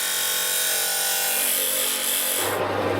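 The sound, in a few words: cutting off a 30mm steel shaft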